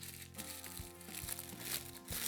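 A round sheet of parchment paper is crumpled up tightly by hand in a kitchen, giving steady close crackling and crinkling with a few sharper crunches over a couple of seconds.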